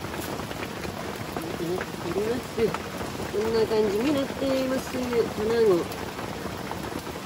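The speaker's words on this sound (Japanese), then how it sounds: "雨足はどんどん降ります" A heavy autumn downpour falls at a lakeside campsite on Lake Towada, a dense, steady patter of raindrops that runs throughout while someone speaks briefly over it.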